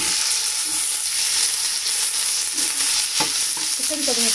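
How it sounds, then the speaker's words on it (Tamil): Small boneless chicken pieces stir-frying in a pan for Schezwan chicken egg fried rice, with a loud, steady sizzle and occasional scraping stirs close by. No one speaks. "சிக்கன் கொஞ்சம் வதங்கட்டும்."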